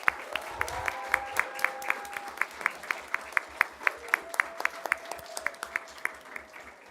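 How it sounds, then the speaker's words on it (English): Applause at a school governing board meeting from a small group, sparse individual claps ringing out in a steady rhythm with low murmuring voices underneath. "So if we could once again just give a round of applause to these amazing individuals."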